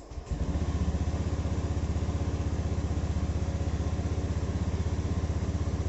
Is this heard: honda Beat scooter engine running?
yes